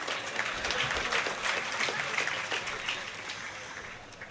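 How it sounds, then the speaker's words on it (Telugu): Applause from a college audience during a minister's speech, a scattered crowd clapping at a fairly low level that gradually fades out. "మగవాళ్ళు చప్పట్లు కొట్టర్లేండి."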